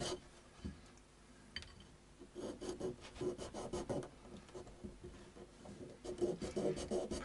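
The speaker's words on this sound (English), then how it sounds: "let us quickly sand this nut back, get rid of the wood." A guitar nut on an Epiphone Les Paul Traditional Pro III is sanded back by hand with a block, giving close, quiet rhythmic rasping strokes that repeat steadily.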